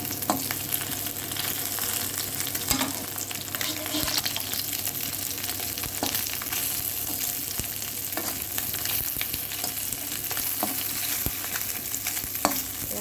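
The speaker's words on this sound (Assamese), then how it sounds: "মোৰ মাছখিনি ভাজা হৈ গৈছে" Fish frying in hot oil in a kadai for an Assamese bottle gourd fish dish, a dense continuous sizzle with scattered sharp pops and occasional stirring scrapes throughout.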